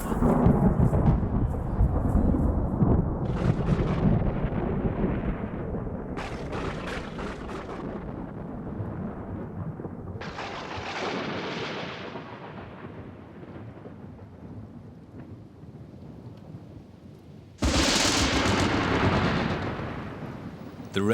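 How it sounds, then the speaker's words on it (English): Thunderstorm rolling in over the lake shore at Gombe, the first rain after a long dry season: heavy rumbling thunder with sharp cracks under a steady hiss of rain sweeping closer, with a fresh loud burst of downpour near the end. "The rain sweeps across the lake from Zaire and onto the shores of Gombe."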